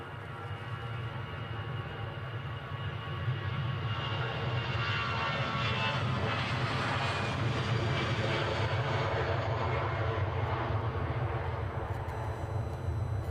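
An aircraft departs from Edinburgh Airport, its engine roar building from a low rumble into a strong, sustained, broadband sound that stays loud and steady to the end.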